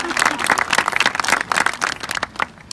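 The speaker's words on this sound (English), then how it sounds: "Just a round of applause for them," Applause and clapping fill a graduation ceremony hall for departing seniors' teachers, a dense, fairly loud patter of many hands with a voice or two mixed in near the end.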